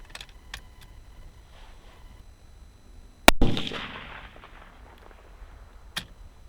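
A single loud 6.8 Western rifle shot cracks out during velocity testing outdoors, followed by a lingering rumbling decay, with faint clicks and ticks before and one sharp click afterward.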